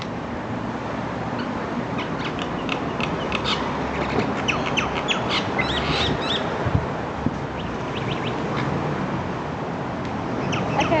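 Birds squawk repeatedly as they fight, harsh scattered calls rising over a constant noisy background for the whole stretch, with no talking.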